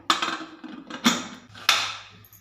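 Three sharp metallic clanks with ringing decay as a pressure cooker lid is fitted and closed, heard close up.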